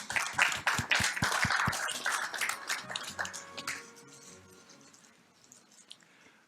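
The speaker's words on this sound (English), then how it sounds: "Please welcome him to the stand with a big round of applause." Sparse, fairly quiet clapping from an event audience welcoming a speaker to the stand at an opening ceremony, a handful of distinct claps at first, then loose scattered applause tapering off.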